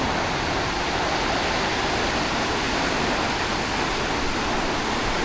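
Ocean waves breaking beside the seaside mosque in Casablanca, Morocco, a loud, unbroken roar of surf and rushing water filling the whole stretch with no voices.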